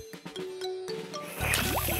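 Cartoon hand pump being worked to draw water, a few drips and clunks followed by a gushing, splashing pour, close and loud.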